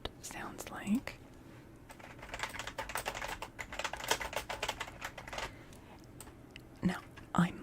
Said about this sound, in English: For context, here is what my current keyboard sounds like.